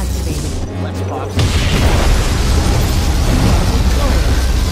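A particle cannon superweapon fires in the C&C Generals video game, a sudden loud, deep blast that erupts after a quieter stretch and then rolls on as a sustained, roaring rumble to the end.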